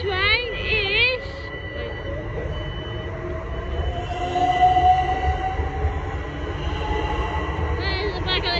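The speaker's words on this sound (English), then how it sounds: "There's the back of the train" A train rolls past close by with a rumbling, clattering roar and squealing wheels, loud and continuous throughout.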